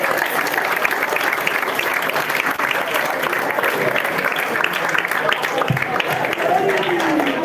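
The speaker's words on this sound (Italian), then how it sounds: "Quindi un applauso anche per loro." Applause from the crowd at a prosecco tournament prize-giving in Conegliano, honouring the fifth-place team: dense, steady clapping from many hands that fills the whole stretch, with murmured voices underneath.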